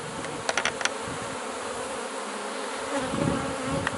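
Dense, steady buzzing of many honeybees close by during a hive cut-out removal, a continuous droning hum with a few brief clicks and taps.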